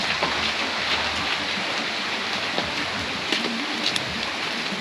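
Steady rain falls during the rainy season, a dense, even hiss of drops on surfaces that carries on without a break, moderately loud and close.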